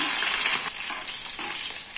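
Cumin seeds and chillies fry in hot oil in a kadai with a bright, crackling sizzle, loudest at first and then easing slightly, with a few soft stirring swishes.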